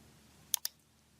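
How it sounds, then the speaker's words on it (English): A computer mouse clicks twice in quick succession, crisp and close, against a quiet background. "So let's click New Node in the toolbar."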